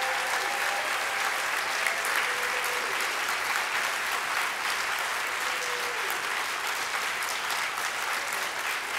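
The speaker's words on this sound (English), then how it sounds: "and Iroh's right here, please, and Marcia, please just give them a round of applause and thanks from all of you." Sustained applause from an audience fills the whole stretch, steady and fairly loud, with no voices standing out.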